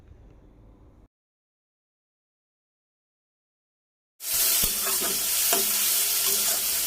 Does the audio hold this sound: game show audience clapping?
no